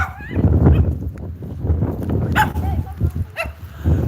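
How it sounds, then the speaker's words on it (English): A small poodle yaps a few times at close range amid outdoor bustle and a murmur of voices. "the little dog were making all the noise"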